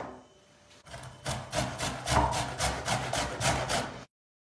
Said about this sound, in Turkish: Bu domatesleri rendeleyeceğiz.